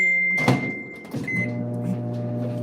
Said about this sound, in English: we're microwaving this cheese